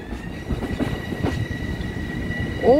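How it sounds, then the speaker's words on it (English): West Hempstead commuter train, an MTA M7, rolls past at close range with steady wheel rumble and clatter, faint tonal squeals throughout and a sharp rising wheel squeal at the end; no talking. "There goes the West Hempstead train."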